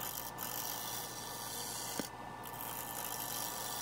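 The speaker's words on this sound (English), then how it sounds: "Finally switched over to the bowl gouge here." A Carter & Son bowl gouge cuts maple on a spinning wood lathe, a steady close rasping, scraping hiss that runs continuously with one small click near the middle.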